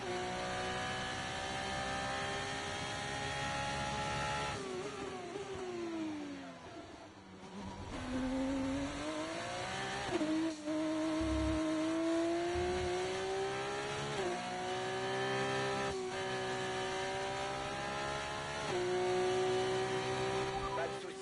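A Formula 1 car in the F1 24 racing game at full throttle, its engine screaming loud and close with rising pitch through the gears, brief dips as it shifts and lifts, held for about twenty seconds.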